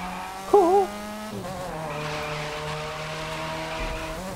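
A Mazda RX-7 drift build in the racing game The Crew 2 slides with a brief high tire squeal, then the rotary engine drones steadily with shifting pitch, fairly loud and with no talking.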